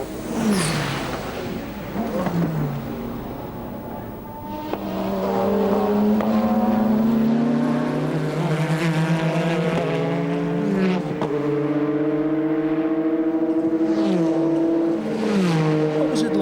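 A Porsche 917 race car engine screams at high revs on a famous circuit, tone climbing and shifting through gears as it approaches 240 miles an hour, loud and close, with no voices.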